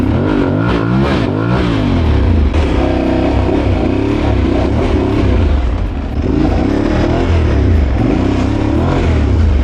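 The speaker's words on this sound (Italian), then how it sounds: "sparami una scasata dalla mia moto" Yamaha R1M superbike engine revving loud and close for the whole stretch, a dense continuous roar with rising and falling pitch sweeps; no talk over it.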